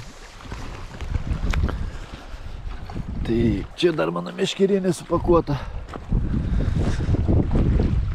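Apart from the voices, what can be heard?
strong wind on an island campsite by the water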